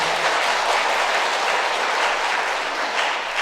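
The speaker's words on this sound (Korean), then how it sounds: "박수 한번 칠까요?" A church audience at a Catholic Holy Spirit renewal seminar applauds steadily, dense sustained clapping from many hands filling the room without pause.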